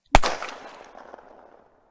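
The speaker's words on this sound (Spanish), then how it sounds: "se grabó una escopeta con micrófonos profesionales y suena así." A single shotgun blast from a free sound library, recorded with professional microphones: one sharp, loud report followed by a long, fading tail.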